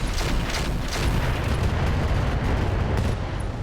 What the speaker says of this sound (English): complete alpha strike this heavy laser turret. Firing all weapons.